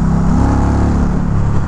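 An Indian Challenger motorcycle with its Power Plus engine accelerating on a highway, a loud, close low-pitched engine roar mixed with rushing wind, rising briefly in pitch.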